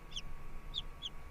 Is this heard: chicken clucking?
yes